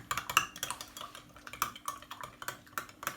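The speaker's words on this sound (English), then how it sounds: "let's give this a lovely mix" Clinking and scraping of a spoon stirring a ginger, lime juice and pimento seed detox drink, a steady run of small close taps and rattles against the container.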